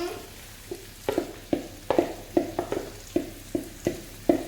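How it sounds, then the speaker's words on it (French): Food cooks in a pan with a soft sizzle underneath, while a spoon scrapes and stirs in a steady rhythm of about two strokes per second, close and clear. "Et je laisse mijoter le tout."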